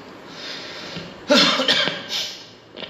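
A person coughing hard in a short burst of two or three close, loud coughs, then a softer cough or throat sound, with a quiet background and no talk.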